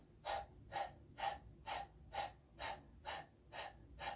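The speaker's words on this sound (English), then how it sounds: "that's where the breath of fire is that we're going to use for the pranayama part" Breath of fire yoga breathing: nine sharp, forceful exhalations through the nose, evenly spaced about half a second apart, close and fairly quiet, with no talking.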